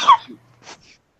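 A single sharp sneeze bursts out close and loud, followed after a short pause by a softer, breathy sound as the person recovers.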